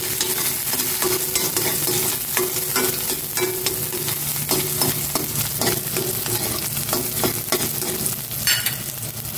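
Onion and tomato are sautéed together in a hot pan, with a continuous loud sizzle broken by repeated scraping strokes of a spatula stirring throughout.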